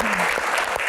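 Audience applause at an event about education plans for Jakarta, a dense, steady wash of clapping filling the short moment, loud and continuous with no pauses.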